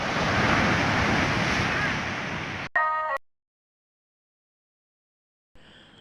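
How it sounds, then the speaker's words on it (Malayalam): Sea waves surge and wash at St. Angelo Fort in Kannur, with steady roaring surf and wind buffeting the microphone. The surf cuts off abruptly and is followed by near silence. "തിരമല ഇതാ"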